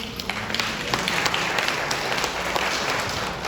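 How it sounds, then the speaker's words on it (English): An audience at a city ward meeting gives steady applause, a dense wash of many hands clapping in a room throughout, with no voices standing out. "Can we give them a round of applause, please?"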